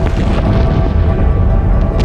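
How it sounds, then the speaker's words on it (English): Deep, continuous rumbling booms from the Krakatoa volcanic eruption roll on without a break, loud and heavy and distant. "A series of booms could be heard hundreds of miles away."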